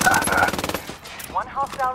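Video game gunfire in Ghost Recon Wildlands: a fast burst of automatic shots up front, then quieter scattered firing and chirpy in-game sounds, with no speech.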